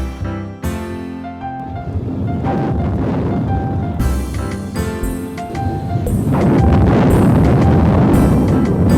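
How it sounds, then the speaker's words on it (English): A volcano eruption sound effect: a loud, dense roar of rumbling and crackling blasts that runs continuously with no voices, swelling slightly toward the end. "V is for volcano."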